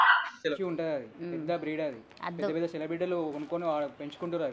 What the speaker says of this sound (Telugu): ఇవన్నీ కుక్కలు ఉన్నాయి సన్ని, అది ఎందుకు ఇంకా మంచి కుక్క, మంచి బ్రీడ్.